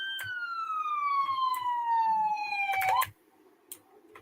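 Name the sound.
police car siren in video game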